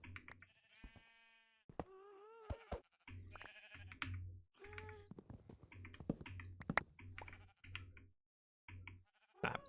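Sheep bleat on a farm in a video game, a string of faint, wavering calls repeating over a soft low hum, alongside light clicking like keyboard taps and no talking.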